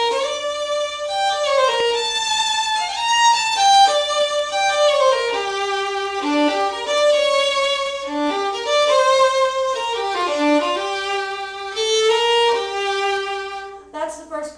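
Gypsy Waltz tune, its first part played as a clear solo melody on a single sustained instrument, steady flowing notes in waltz phrasing, close and fairly loud with no talking.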